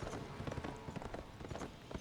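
Horse hooves clatter in rapid galloping rhythm in the Berserk and the Band of the Hawk video game, a quiet, steady stream of close thuds with no speech over them.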